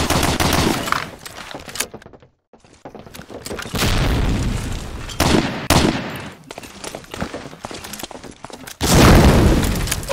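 A grenade explosion in Medal of Honor: Allied Assault erupts as a loud broadband boom near the end, after scattered gunfire, clattering and brief gaps of quiet in a competitive online match.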